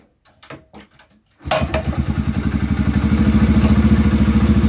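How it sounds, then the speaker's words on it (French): A motorbike engine starts after a few quiet clicks and cranks, then settles into a loud, close, rhythmic idle that steadily builds and holds. "Bon bah voilà, elle démarre en plus."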